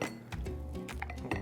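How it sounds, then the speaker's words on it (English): Lemon juice muddled in a cocktail glass, heard as a quick series of close clinks and knocks of the muddler against the glass. "And now we gonna muddle."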